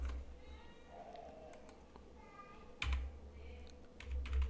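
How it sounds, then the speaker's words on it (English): Keys tapped on a computer keyboard while entering a command in Kali Linux, scattered clicks and short runs of typing, close but fairly soft over a low hum, with no speech. "now just type here"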